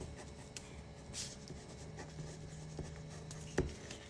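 A pen writes a name on paper in short, faint scratching strokes against a quiet room, ending with a sharp tap.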